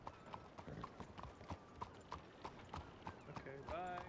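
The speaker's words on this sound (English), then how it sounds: "I'm just gonna hitch my horse up further in town." Horse hooves clip-clop in a steady, evenly spaced rhythm in a Wild West roleplay video game, close and clear, with a brief louder sound near the end.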